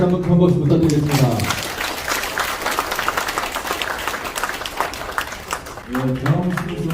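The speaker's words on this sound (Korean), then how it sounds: "여러분 다시 한번 큰 박수 부탁드리겠습니다." Sustained audience applause at a memorial ceremony follows a sung performance, dense and steady clapping filling the room, with a few trailing notes of music or voice at the start and end.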